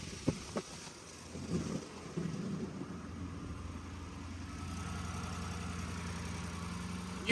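A Ford 6.7 Powerstroke diesel with a leaking fuel line idles, then is raised to around 1,500 RPM, settling into a steady mid-pitched engine drone close by after a few knocks and clunks, without speech.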